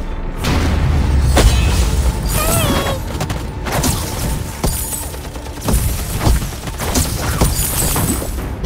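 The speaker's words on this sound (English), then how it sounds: "Enemy turret destroyed." Dense, loud game-battle audio from a Vainglory match as an enemy turret is destroyed, with heavy booming impacts, crashing and mechanical clatter running continuously throughout, several sharp bursts standing out.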